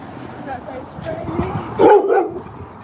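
A dog on a city street gives a short bark or yip, close by, mixed in with a person's friendly voice calling to it.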